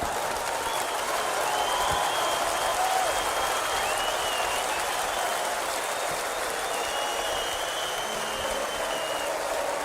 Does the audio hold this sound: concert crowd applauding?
yes